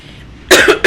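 A woman gives a short burst of harsh, close coughs, two quick bursts at the end of a quiet moment.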